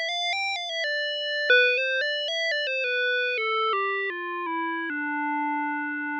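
Synthesizer patch built in VCV Rack from Befaco modules, playing a clean, bright harmonic melody of short stepped notes that descends and ends on a sustained tone, steady and close with no voices.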